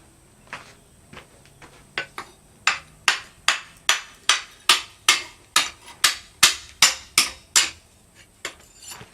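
A hammer strikes a chisel to cut through a red-hot old hoe, about twenty sharp metallic blows in a steady rhythm. The blows start light and grow louder and evenly spaced, close by with no talk.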